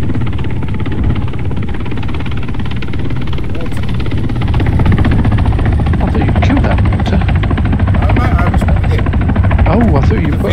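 A helicopter in Arma 3 thrums steadily throughout, a loud continuous rotor and engine drone that swells slightly in the second half, with voices talking over it.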